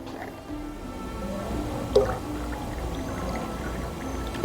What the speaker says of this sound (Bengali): একটু জলটা কমে গেছে, জলটা দিয়ে নিই।